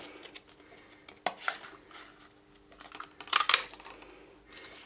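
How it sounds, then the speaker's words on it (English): A heart-shaped craft punch cuts paper hearts, making a few crisp clicks and crunching snaps with short pauses between them, close and fairly quiet. "take the heart-to-heart punch, and we're going to punch out 6 of the medium-sized heart here"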